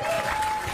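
Applause from an audience in a played-back clip, a dense continuous patter of clapping that fills the whole short moment at steady loudness.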